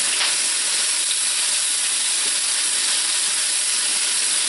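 Bacon crumbles and lamb chops cooking together in a pan give a steady, even sizzle and hiss that holds at one level throughout, with no talking.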